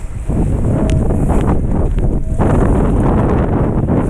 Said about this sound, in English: Windy as hell down here.